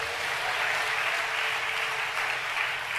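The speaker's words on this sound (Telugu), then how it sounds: "కొట్టు చప్పట్లో ఒకసారి" A congregation at a Telugu sermon breaks into steady, dense clapping that holds at an even level for the whole stretch, with no talk over it.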